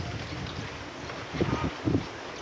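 Wind blows outdoors in a constant rushing gust against the microphone, swelling briefly in a couple of louder buffets.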